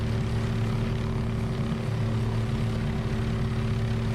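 The steady droning hum of a Chinook twin-rotor helicopter in Microsoft Flight Simulator 2024, a constant engine and rotor tone at an even level with no voices, unchanging for several seconds.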